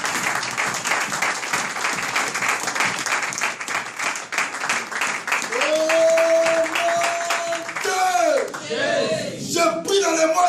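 A church congregation claps and cheers in a sustained burst of applause, with rhythmic clapping and shouts, while a loud sung or shouted voice rises over the crowd partway through.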